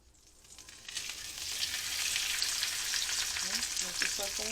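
Birria taco shells dipped in consommé sizzle loudly as they hit a hot pan, a steady bright frying hiss building and holding with faint scraping near the end.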